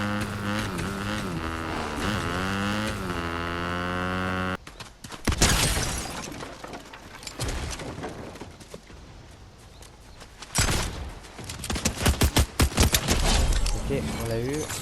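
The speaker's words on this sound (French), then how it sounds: "On peut aussi utiliser une arme en étant dessus. Et on peut tirer" Gunshots fired from horseback in the Fortnite video game, a sharp burst of shots after a stretch of music, then a second rapid volley near the end, mixed with in-game sound and talk.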